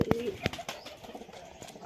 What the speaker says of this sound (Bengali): এই যে এখানে কবুতরটা সুন্দর কবুতর, এই যে এইগুলো সবগুলো দেশি